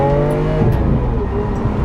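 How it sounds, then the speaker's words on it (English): A loud Lamborghini Aventador engine roars steadily with a deep, resonant howl, sustained throughout without voices. "The engine in this car has like a howl. It howls."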